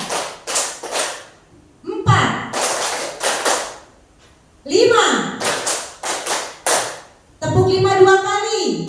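An audience claps a counted rhythmic pattern, bursts of sharp, fast claps separated by short pauses, with a voice speaking between the groups.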